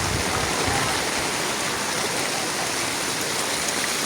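A swollen river rushes during typhoon flooding, a loud, dense, unbroken roar of flowing water close by, with a voice faintly present in the wash.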